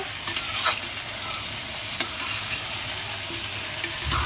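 Chicken and potatoes in a kadai stirred amid steady frying sizzle, with a few scraping knocks of the spoon against the pan, close and continuous at moderate level.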